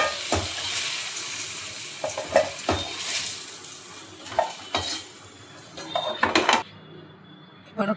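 Potatoes frying in a wok, loud continuous sizzling cut by repeated metal spatula scrapes and clanks against the pan, busiest toward the end, with no talk over it.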